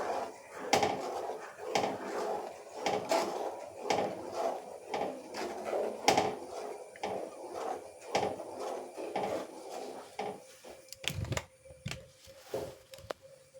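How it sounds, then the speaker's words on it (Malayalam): A thickening mixture is stirred in a pan over high heat, giving rhythmic scraping and knocking strokes at a moderate, steady pace, fairly quiet and close, with a brief clatter near the end. "ഇളക്കി നന്നായിട്ട് കുറുകി വരണ വരെ നന്നായിട്ട് ഇളക്കി കൊടുക്കണം"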